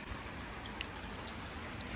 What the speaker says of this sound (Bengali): খুব ভালো লাগে বৃষ্টির শব্দটা আমাদের